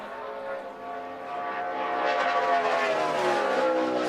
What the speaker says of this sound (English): That car is loose, Steve.